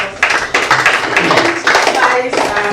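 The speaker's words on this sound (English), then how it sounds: "A round of applause for" Audience at a live fashion event clapping in several short bursts of applause, fairly close, with a voice talking over parts of it.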